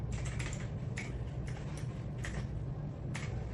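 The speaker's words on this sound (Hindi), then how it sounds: "पासवर्ड अगेन टाइप कर देने का" Keys clatter on a computer keyboard as a password is entered, a quick irregular series of soft clicks and taps, close and fairly quiet, with no one talking.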